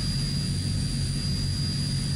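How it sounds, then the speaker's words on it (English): Twin turboprop engines of a Transall C-160 military transport running steadily in Microsoft Flight Simulator 2020, a loud continuous low roar with a high steady whine, alone without talk. "Okay, so both engines started now."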